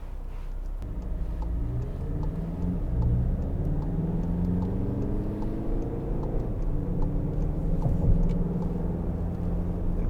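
A 2016 Volkswagen Golf GTD 2.0 TDI with a DSG gearbox drives around nearby, a loud and steady engine and road rumble with rising and falling tones that swells briefly near the end, with no talk over it.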